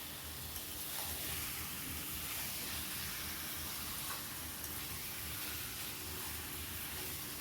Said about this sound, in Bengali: দেখো এদিকে দেখো মশলাটাও হয়ে গেছে, মাংসটা ঢেলে দিলাম।